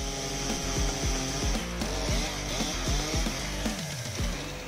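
Chainsaw revving and biting through large logs in a forestry setting, loud and near with rising and falling engine pitch as each cut goes in, no voices.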